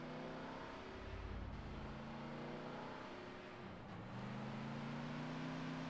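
A weak rental car accelerating in GTA San Andreas multiplayer, its steady engine drone rising in pitch through gear changes, with a brief low rumble and a dip in revs before climbing again, no talking.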